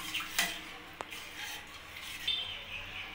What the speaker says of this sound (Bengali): আর আমি এটা ভালো করে নাড়িয়ে নেব।